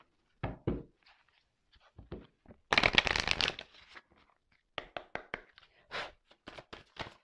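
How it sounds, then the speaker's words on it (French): Tarot-style cards shuffled close up on a table during a card reading: scattered soft taps and handling sounds, then a dense riffling burst of about a second, followed by more light card slaps and taps, no voices. "Donc du coup, j'ai pris mes cartes, hein."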